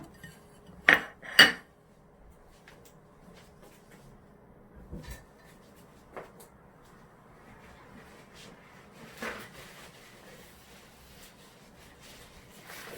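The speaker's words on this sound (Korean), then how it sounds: "지저분한 도마는 좀 치울게요." Dishes and a cutting board cleared away in a kitchen after preparing ingredients for kimchi rice balls: two sharp clinks near the start, then scattered softer knocks and clatters over a quiet background.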